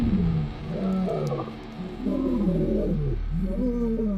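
Lions in the Sabi Sand reserve roaring, a series of deep groaning roars rising and falling in bursts, loud and near, with a short lull in the middle before the calls resume.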